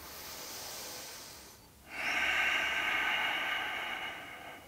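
Deep breathing during a yoga pose: a soft airy inhale trails off into a brief pause, followed by a louder, sustained hissing exhale close to the microphone.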